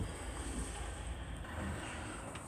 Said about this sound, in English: You can see there's just water coming out there now.